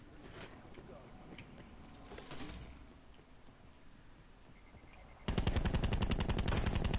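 A light machine gun firing in a video game, a rapid, loud burst of evenly spaced shots near the end, after a stretch of quieter game sounds.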